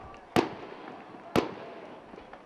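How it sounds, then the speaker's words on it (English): Fireworks burst near a college football stadium during a Nebraska Wesleyan versus Concordia game, with three sharp, loud bangs spaced about a second apart over a low outdoor murmur. "We got some fireworks here."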